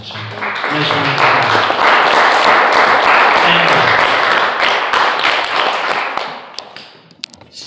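Steady applause from a room full of people fills several seconds, then thins to a few scattered claps, with some talk underneath.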